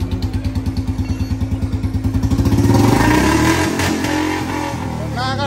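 Royal Enfield Bullet motorcycle modified to resemble a Harley, its engine thumping in a steady loud rhythm and then revving up into a louder, rougher roar close by.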